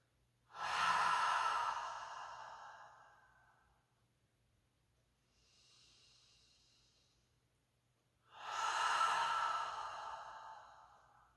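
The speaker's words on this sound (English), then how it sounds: "Let the breath travel in through the nose and out through the mouth." Slow, deep yoga breathing, in through the nose and out through the mouth: two long, loud, airy exhales close up, with a fainter inhale between them in a quiet room.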